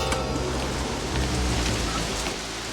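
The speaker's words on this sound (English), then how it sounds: "it's raining cats and dogs" Heavy rain falls steadily, a dense, continuous hiss of drops pattering on surfaces at close range, with no voices.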